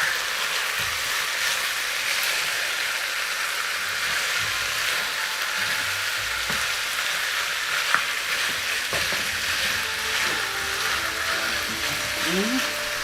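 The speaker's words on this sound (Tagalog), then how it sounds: "We have to stir first" Beef frying and being stirred in a pan, a steady broadband sizzle running unbroken throughout with occasional scraping and clinking of the utensil against the pan.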